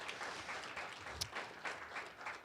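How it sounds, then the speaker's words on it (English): A conference audience in a hall claps together in a fairly faint, continuous round of applause with scattered individual claps standing out. "Can we please give them a round of applause?"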